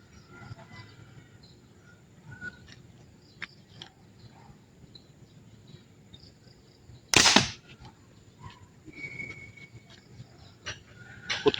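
A single sharp gunshot rings out from a hunting gun fitted with a new igniter, fired outdoors in quiet early-morning surroundings. One loud close bang with a brief tail cuts through faint ambient noise and occasional bird calls.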